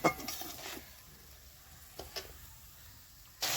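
Spice masala for a vegetarian eggplant and peanut curry is stirred in a pan with a little water: faint scraping and soft clinks of a utensil against the pan, with a louder scrape near the end.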